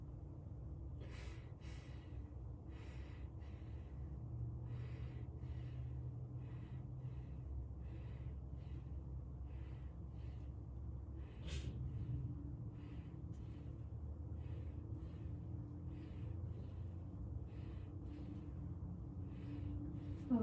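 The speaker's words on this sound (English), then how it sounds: "Once the stethoscope touches your back, I want you to inhale and exhale for me." Faint, soft breaths of a patient inhaling and exhaling in an even rhythm during lung auscultation in a head-to-toe assessment, under a low steady hum, with no talking.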